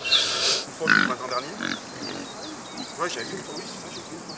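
Pigs grunt and oink in a farm field, several soft snorting grunts against outdoor ambience with birds and insects, fairly near and moderate in level.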